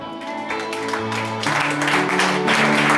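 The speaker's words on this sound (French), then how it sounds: "Acclame très fort." A church congregation breaks into applause, a rising wash of clapping that grows louder and denser partway through, mixed with sustained tones from instruments or voices underneath.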